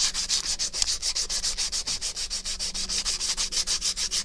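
A knife being sanded by hand with 180 grit sandpaper in a knifemaking shop, a loud, close, rhythmic rasping of even back-and-forth strokes with no talking.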